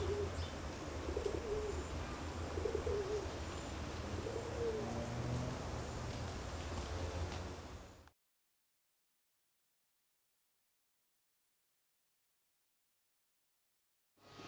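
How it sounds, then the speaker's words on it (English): Pigeons cooing softly in an English garden in New Zealand, a few low coos over steady outdoor background noise, then the sound cuts to silence. "Pigeons, what else?"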